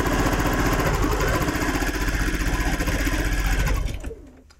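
A sewing machine runs a straight seam on a quilt block, a loud, close, rapid mechanical chatter that holds steady and then slows to a stop at the end.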